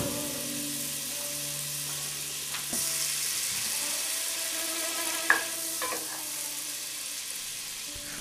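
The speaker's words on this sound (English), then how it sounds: "using the first half to sauté our onions" Onions sautéing in melted butter in a pan for lobster chowder, a steady close sizzle with a hum underneath and one sharp clink midway, no talking.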